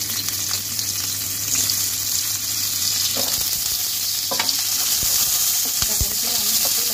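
Drumstick stems fry in hot oil for dudh shukto, a constant bright hiss with occasional light clicks and taps of a utensil in the pan.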